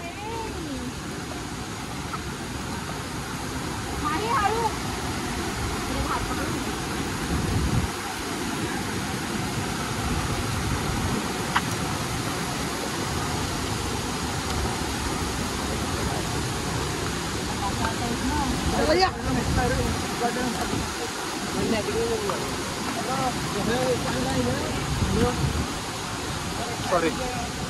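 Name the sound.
waterfall at Kondi near Nagaon, Alibag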